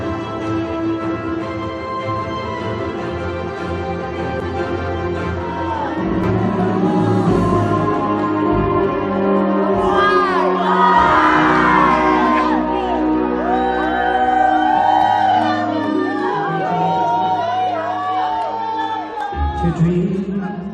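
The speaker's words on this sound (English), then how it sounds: "another round of applause" Conference summit audience cheering and whooping with crowd noise, loud and sustained, swelling in the middle over a steady musical backing.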